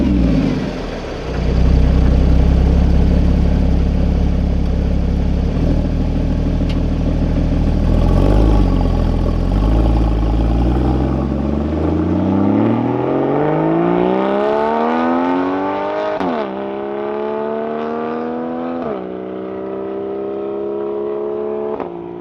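A Porsche 981 Cayman flat-six with a SOUL Performance exhaust roars loudly up close, climbing through the revs in long sweeping pulls with brief dips at gear changes, then easing into a lighter drone.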